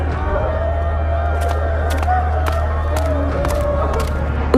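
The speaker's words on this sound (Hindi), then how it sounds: "रामदीन के घर के आसपास काफी भीड़ जमा थी।" A crowd gathered around a house in a lane, a continuous murmur of many voices with occasional shouts and whoops rising over a steady low hum.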